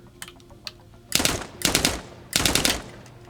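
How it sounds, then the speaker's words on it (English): Gunfire from a VR shooter game played with a haptic gunstock rings out in sharp, loud three-round bursts, preceded by a few faint clicks, with the bursts spaced about a second apart. "So each time I'm firing now, I'm shooting 3 bullets, and the haptics are also going off 3 times"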